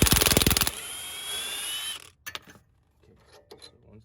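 A wrench turns out a 17 mm bolt on the bottom of a 2004 Acura TSX's suspension during an air suspension install, with a rapid ratcheting burst followed by a sustained mechanical whir and then a few sparse clanks.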